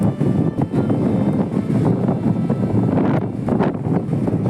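Wind gusts across Digha beach, buffeting the microphone with a loud rumbling roar that rises and falls in uneven bursts for a few seconds, with no voices.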